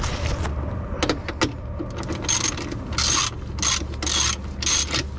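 Clicking ratchet and metallic tool sounds while tightening an engine mount bolt on a Jeep Renegade, bursts of rapid ratcheting repeating close up over a low steady background hum, with no talk.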